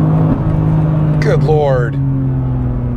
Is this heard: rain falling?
no